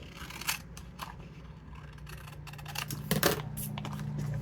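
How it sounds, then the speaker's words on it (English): Scissors snip through a paper envelope at the peak of a flip-flop fold, giving a few soft crunching cuts with a brief louder snip near the middle, close and quiet over a low room hum. "cut it right off at where the peak of the envelope was"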